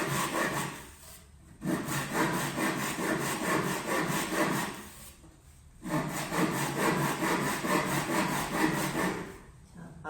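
A hand saw cuts through a board in long rasping strokes, three sustained bursts of sawing separated by brief pauses, close and clear with no talking.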